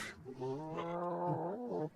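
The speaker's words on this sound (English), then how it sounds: "you can reverse vocals and it sounds really creepy and really disturbing" A low, slow, reversed and pitched-down voice with a warped, unnatural contour, like a drawn-out groan, sounding eerie and distorted over about two seconds.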